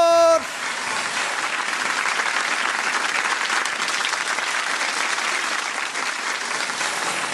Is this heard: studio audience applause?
yes